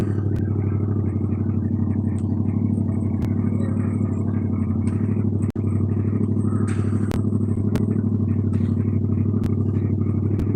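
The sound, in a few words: motorbike passing outside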